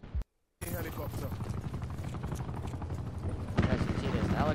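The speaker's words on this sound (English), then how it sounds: "As you see, this helicopter just left." Helicopter in the video game Call of Duty Black Ops 4, a steady rotor and engine drone that holds throughout and swells louder near the end, following a short burst and a brief gap of silence at the start.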